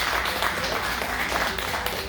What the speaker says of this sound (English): I want to give everybody a round of applause for y'all coming in